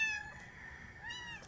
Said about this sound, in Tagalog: Wawa naman ang kuting.